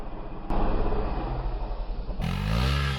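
A Honda CRF300L dual-sport motorcycle rides across a dirt field, its single-cylinder engine droning loud and close with a rough pulsing note that rises as it revs up near the end.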